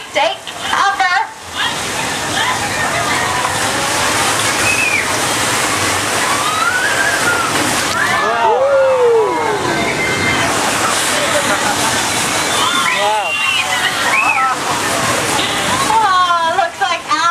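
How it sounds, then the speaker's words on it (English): Thousands of gallons of recycled water rush toward a tram in the Universal Studios Hollywood flash flood effect, a loud continuous roar and slosh with shouts and excited voices over it. "That was a result of thousands of gallons of recycled water being plunged towards the tram towards you."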